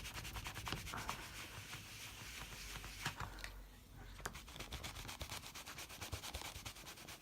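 A brush scrubs a rubber stamp clean, giving a continuous close, soft scratchy rubbing with rapid strokes. There is a short pause midway and no talking.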